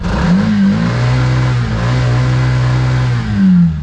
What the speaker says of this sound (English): Let's have a listen to the rickshaw revving.